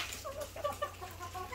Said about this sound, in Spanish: Ven cómo están esos pollos.